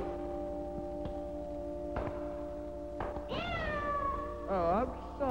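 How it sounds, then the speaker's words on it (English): A cat lets out a loud, drawn-out yowl after its tail is stepped on, two wavering cries rising and falling over a steady background hum, with a couple of sharp knocks beforehand. "I stepped on my cat's tail."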